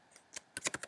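Keys on a computer keyboard are tapped in a quick cluster of close, crisp clicks, a few spaced strokes followed by a faster run, heard alone.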